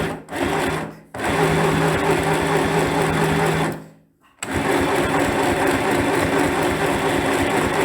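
A sewing machine runs flat out at its top speed while mass-producing tote bags, a loud continuous mechanical whir with two brief pauses where it stops and restarts.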